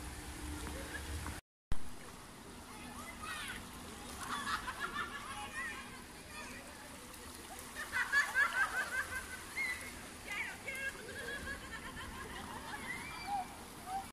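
Sea water laps and sloshes around boats at the small port of Chacala, a soft, continuous ambience with people talking over it.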